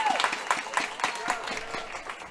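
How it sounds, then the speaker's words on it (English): Spectators at a girls' U16 soccer bronze medal match applaud a substituted player, crowd clapping spread out and somewhat distant, carrying under a commentator's voice. "she gets a loud round of applause"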